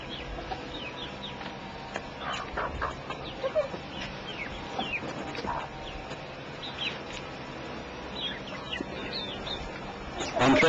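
A hen clucks in scattered short calls against a busy, steady background, with a few brief louder bursts near the end.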